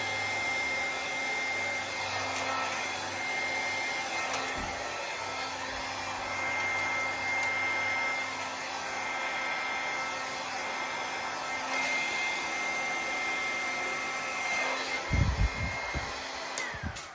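Blow dryer aimed at an acrylic pearl pour painting, a steady airy whoosh that runs for the whole stretch at moderate level, ending with a few knocks and handling thumps.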